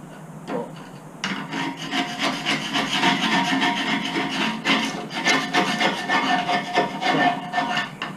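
Sandpaper rubs back and forth over an old painted surface to strip flaking original paint, making a close, steady rhythmic rasping that continues for several seconds with no talking.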